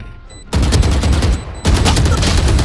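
Close, loud automatic gunfire in the tactical shooter Valorant, two sustained bursts split by a short pause, heavy and rapid.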